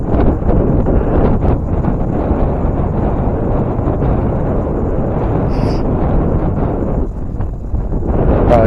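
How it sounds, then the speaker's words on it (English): Hard, cold wind buffets the microphone at a lake shore, a steady roaring rumble that never lets up across the whole stretch, loud and close with no voices. "Right now, I'm just not feeling it with this hard wind."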